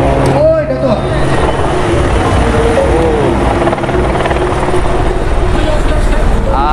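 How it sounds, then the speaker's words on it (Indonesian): A helicopter flying overhead on the way to the MotoGP race at Sepang circuit in 2023, a loud, steady rotor roar that fills the whole stretch with voices mixed in beneath it. "Helikopter kan?"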